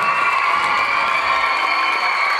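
A large youth conference audience claps steadily for their mothers, a dense, even wash of applause filling the whole stretch with no pauses and a faint ringing hum beneath it.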